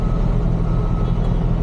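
A spread axle step deck truck with a day cab backs up, its reversing alarm beeping steadily over a loud, constant diesel engine rumble close by.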